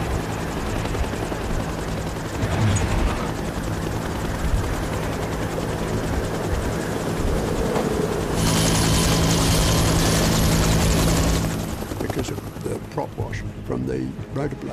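A rescue helicopter hovers in bad weather near Mount Erebus, its rotor roar steady and loud throughout, swelling stronger for a few seconds midway before easing back.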